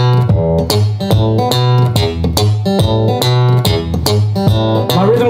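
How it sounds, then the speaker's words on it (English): Foot-played stomp box acting as a kick drum thumps in a steady beat at a blues performance, loud and close, with guitar picking layered over the pulses and no talk. "Drummer is going to be this stomp box down at my foot here. That's going to give you the kick drum sound just like this."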